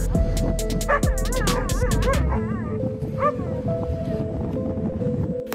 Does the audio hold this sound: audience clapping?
no